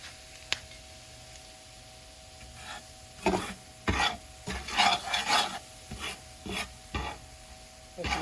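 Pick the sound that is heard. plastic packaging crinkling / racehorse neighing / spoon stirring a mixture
spoon stirring a mixture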